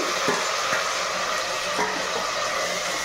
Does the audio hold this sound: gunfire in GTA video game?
no